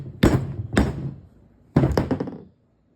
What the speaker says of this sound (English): you take this little plastic piece and you put it right in there and just hammer it down in there.